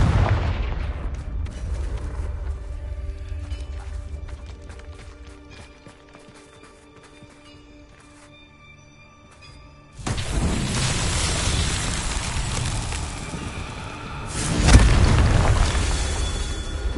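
Confringo fire spell explosions in Hogwarts Legacy: a loud burst lands around ten seconds, followed by sustained roaring blast noise and a second heavy boom near fifteen seconds, after a quieter stretch of rumbling game ambience.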